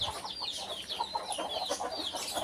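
Birds inside a private aviary chirp and call continuously, with many overlapping high chirps and some clucking fowl-like notes, fairly close and busy, without talk.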